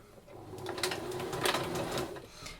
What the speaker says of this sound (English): This one here, you can sew all the way along.